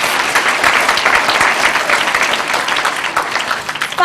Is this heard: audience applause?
yes